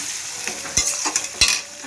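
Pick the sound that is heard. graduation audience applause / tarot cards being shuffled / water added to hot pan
water added to hot pan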